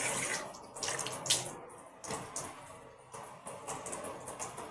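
Tap water runs into a sink during face washing, a continuous close splashing stream with uneven surges and small splatters as hands move through it.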